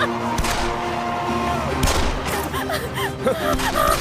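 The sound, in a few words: gunfire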